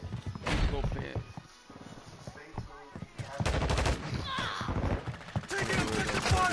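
Video game gunfire crackles in dense bursts of rapid automatic shots, loud and close, with brief pauses between volleys and voices talking at points.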